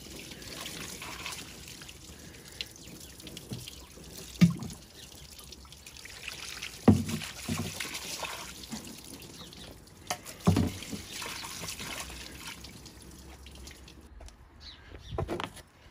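Water pours from a watering can to rinse away cleaning product near a Ford Focus engine bay, a soft, quiet trickle and dribble with a few louder splashes.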